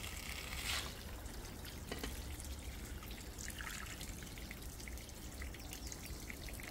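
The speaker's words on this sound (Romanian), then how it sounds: "Apă." Water trickles and splashes as it is poured into a frying pan of vegetables and chopped tomatoes cooking over heat for pan-fried trout saramura, a steady close, continuous liquid dribble with no talk.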